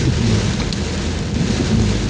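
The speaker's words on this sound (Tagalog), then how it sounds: "Napakalakas po ng ulan." Heavy rain pounds steadily and loudly on a vehicle while driving through a downpour in Dasmariñas, a dense continuous roar with no pauses.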